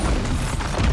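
A Bombarda spell blast in the video game Hogwarts Legacy during a troll fight, a dense, loud boom with low rumble filling the whole second.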